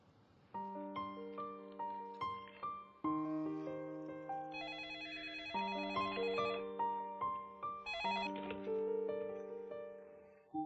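A telephone rings during a call to parents, sounding as a repeating electronic ringtone melody with bright tonal chimes, steady and clear throughout with no talk.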